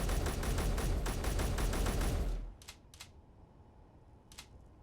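Rapid automatic gunfire in Space Engineers rattles loudly and evenly for over two seconds, then cuts off abruptly, leaving a quiet background with a few faint clicks.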